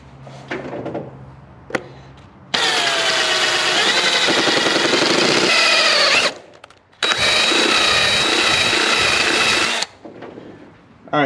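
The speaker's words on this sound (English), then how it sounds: "So I got my drill with my bit." A power drill spins up with a loud whirring whine, runs for several seconds, pauses briefly, then whirs again before winding down.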